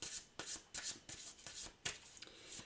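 A deck of cards being shuffled and drawn up close: a quiet series of crisp, papery riffling bursts, about seven in under three seconds, irregularly spaced, with no voices.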